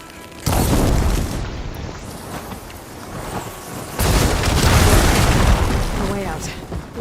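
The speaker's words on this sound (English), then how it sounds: "Hitting those blaze barrels with fire ammo should do the trick" Blaze barrels bursting into fiery explosions from fire ammo in Horizon Forbidden West, a loud booming roar that swells at the start, then a second heavy blast with rumbling, crackling debris, all dense and sustained.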